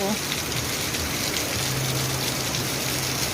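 Heavy rain pours in a steady, dense wash that fills the whole clip, close and constant, with a faint low hum running underneath and no voices.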